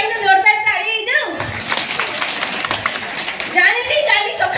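Audience applause at a jatra stage show featuring an Odia serial actress, a dense burst of clapping swelling in the middle between stretches of voices, fairly close and loud.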